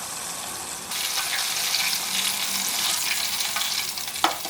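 Chicken pieces deep-frying in oil heated to 170–190°C, a loud, dense, continuous bubbling sizzle that holds steady throughout, with a sharper crackle near the end.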